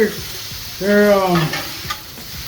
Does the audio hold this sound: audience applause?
no